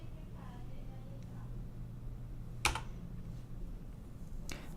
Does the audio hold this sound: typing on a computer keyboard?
yes